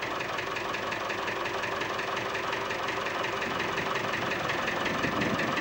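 A tractor engine runs steadily throughout at a constant, even level, with a continuous mechanical drone and a rhythmic knocking pulse and no voices, recorded in 1998 during a charity transport delivering donations from Denmark to Romania.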